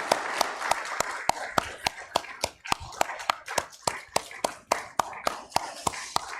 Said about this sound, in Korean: 예, 큰 박수로 우리 격려합시다.